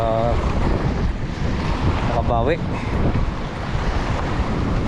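Steady wind roars and buffets the microphone throughout, with brief speech and a boat-like rumble underneath.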